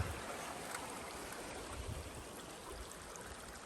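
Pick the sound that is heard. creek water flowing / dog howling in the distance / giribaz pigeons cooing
creek water flowing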